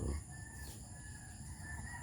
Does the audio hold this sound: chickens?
yes